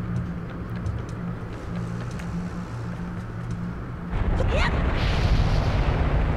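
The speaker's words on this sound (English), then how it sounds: "Oh, fire! Let's run a little bit." Fire erupts in The Legend of Zelda: The Wind Waker as a sudden roaring surge with a rising whoosh partway through, swelling over an ongoing game soundscape.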